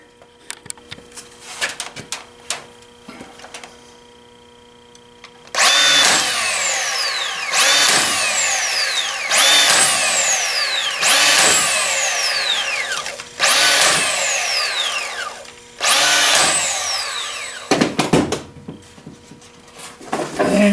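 A power tool cuts wood for a greenhouse in five loud whining bursts, each starting high and dropping in pitch as it bites, separated by short pauses, with clattering handling sounds before and after.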